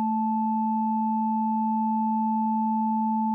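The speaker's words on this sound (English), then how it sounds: "Now let's slowly close the filter." Sine waves run through a Behringer FiltAmp 1006 lowpass filter as it slowly closes, giving a steady, sustained electronic tone that holds level from start to finish with no voice.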